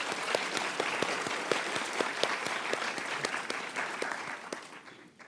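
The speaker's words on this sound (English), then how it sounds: "So can we please give a round of applause to our outstanding faculty and staff for their" An audience at a college nursing pinning and stole ceremony applauds faculty and staff, with steady clapping that stays strong and slowly fades out toward the end.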